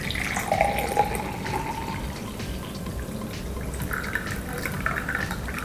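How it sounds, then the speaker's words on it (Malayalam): Strained coriander tea trickles and splashes into a glass in a short, quiet pour, with a soft dripping tail. "ഈ മല്ലിച്ചായ ഇനി അരിച്ചൊരു ഗ്ലാസ്സിലേക്ക് വയ്ക്കാം"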